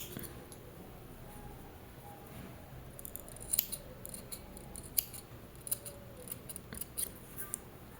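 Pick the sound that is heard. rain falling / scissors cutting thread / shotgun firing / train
scissors cutting thread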